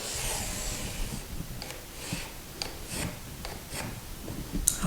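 Pencil run along a door to mark a line, a soft scratchy rubbing with a few brief taps, close and fairly quiet with no talking.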